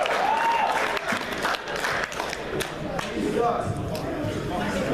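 Convention panel audience at MAGFest 2016 bursting into sustained applause and cheering, a dense, steady wash of clapping hands filling the room for several seconds with scattered voices mixed in.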